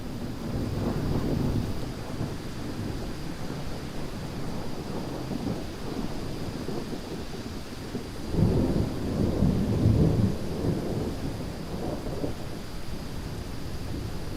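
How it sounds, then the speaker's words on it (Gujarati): Heavy rain pours steadily in Vadodara during a severe storm while deep thunder rolls through, with a strong rumble near the start and another long, loud one toward the end. "વડોદરામાં વરસી આંધી"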